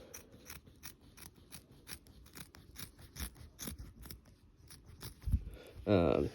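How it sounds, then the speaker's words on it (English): Repeated sharp snips from scissors cutting through soft gel insoles, a steady rhythm of close clicks, ending with a brief louder rustle. "these scissors are okay, but you take them, you trim them"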